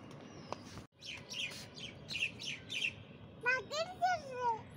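Small birds chirp in quick, high tweets, repeated in bursts, with a voice speaking briefly nearby.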